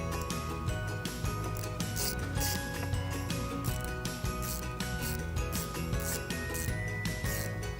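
A 10mm socket ratchet loosens a battery accessory nut on a 2008 Jeep Liberty, giving a dense run of rapid clicking pawl ticks that repeats steadily at moderate volume with no talking.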